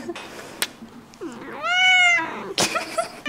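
A house cat gives one clear, drawn-out meow of rising then falling pitch, close and fairly loud, with brief rustles and taps before and after.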